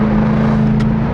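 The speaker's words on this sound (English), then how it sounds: "on upshifts, you can hear when the exhaust valve really properly opens" A Jaguar F-Type R exhaust drones loud and close at full throttle, a steady heavy engine note through an upshift with the exhaust valve open.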